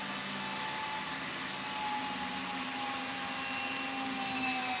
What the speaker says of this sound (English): we just want to use a nice amount of pressure and drill slowly